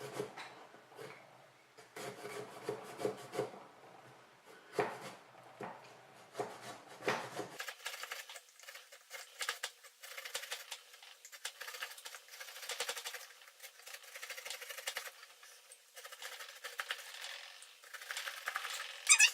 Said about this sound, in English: we got to cut the top off again and also get the pumpkin seeds out